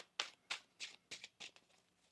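Tarot cards being shuffled by hand, about seven quick papery riffling bursts in a steady rhythm, close and fairly soft, with no talk.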